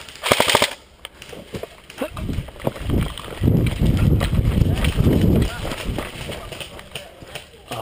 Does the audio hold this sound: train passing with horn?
no